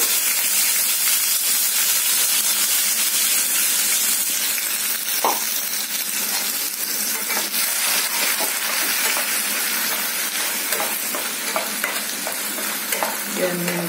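Onion paste and green chili hitting a hot pan for rohu fish curry give a loud, continuous close-up frying hiss and sizzle, with occasional spoon stirring and scraping throughout.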